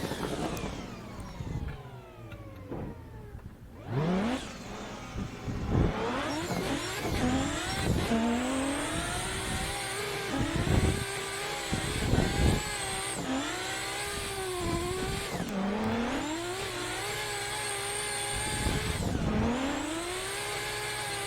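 Suzugiri car drifting in a sim racing game on a direct-drive wheel: a loud engine repeatedly revving up and dropping through gear shifts, with tire squeal and skids, continuous with no talk.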